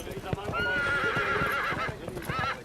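Horses' hooves clip-clop in a steady, uneven rhythm close by, with drawn-out whinnying and voices talking over them.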